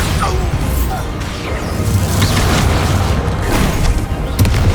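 Bombarda explosion spell blasts in the video game Hogwarts Legacy, a loud sustained booming barrage with crashing impacts layered over dense combat noise.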